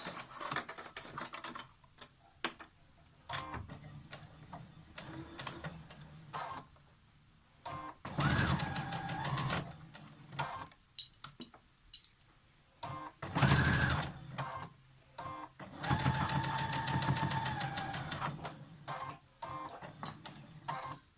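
A sewing machine top stitching the lower edge of a fabric face mask, running in several rapid whirring bursts separated by short pauses, close and clear with no talking.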